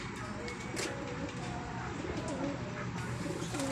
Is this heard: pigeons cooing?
yes